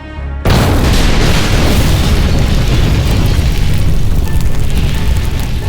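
A bomb hidden in a briefcase blows apart a Paris–Marseille TGV train, a sudden loud boom after a brief quiet start, followed by a sustained, dense roar and rumble of debris that stays loud to the end.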